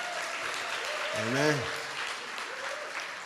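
Audience applause at an evening music event, a steady broadband wash of clapping heard under a voice as he begins speaking.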